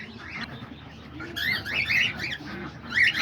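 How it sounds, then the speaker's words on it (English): Cockatiels chirp in a mixed aviary housing diamond doves, budgies, lovebirds and homing pigeons. Bright, overlapping chirps and short calls rise in bursts over a low, steady background, growing busier and louder toward the end. "Like you can see, all the cockatiels are all in here."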